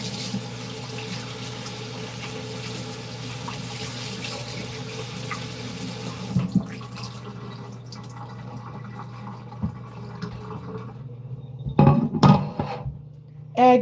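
A plate rinsed under a running kitchen tap, a steady hiss of flowing water that stops midway, followed by a few clinks and drips, close and moderately loud.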